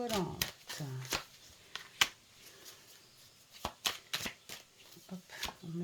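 Cartomancy cards are riffled and shuffled in quick, close bursts of sharp flicks and slaps, with a voice speaking between the shuffles.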